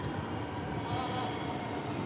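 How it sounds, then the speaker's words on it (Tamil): A metro train pulls into the station with a steady, low, fairly distant rumble that holds level throughout, with no sharp squeals or clacks standing out. "ட்ரெயினும் வந்துட்டுருக்கு."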